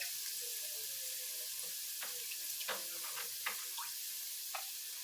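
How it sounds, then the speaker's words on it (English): Water drains and splashes from onions in a kitchen sink, a steady hiss of running water with a few scattered clinks and drips, fairly quiet and without talk. "We'll just drain the water of the onion."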